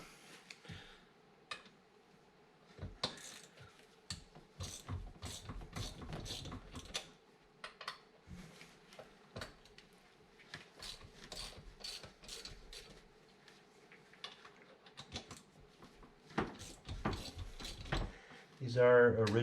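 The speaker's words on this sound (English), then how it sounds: "And now we're ready to remove our larger Allens to take the carburetors off." Allen keys working loose the bolts holding original Mikuni carburetors on a 1996 Sea-Doo XP 787 engine, giving scattered metallic clicks, taps and ratcheting rattles at close range, with brief quiet gaps between bursts.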